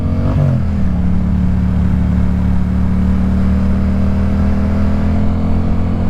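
A Yamaha FZ-07 motorcycle with aftermarket pipes holds a loud, steady mid-pitched engine drone close by, with a short rev blip at the start and no talking.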